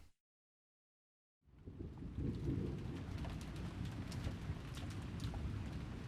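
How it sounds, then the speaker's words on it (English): Steady rain ambience from the Umineko visual novel, a constant hiss that fades in after about a second of total silence and then holds evenly, with no other sounds. "it created an eerie silence with no sound except that of the rain"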